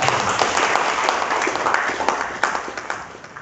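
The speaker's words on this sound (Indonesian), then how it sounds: "Tepuk tangan." Audience at an Indonesian discussion event in Jakarta about the governor and vice governor election applauds, a dense continuous wash of clapping from a crowd, steady and fairly loud, fading slightly toward the end.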